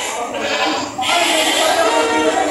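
Goats at a livestock market in Padre Garcia, Batangas bleat in overlapping, wavering cries, loud and close, with two drawn-out calls back to back.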